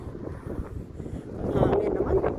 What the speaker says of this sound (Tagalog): Hangin naman.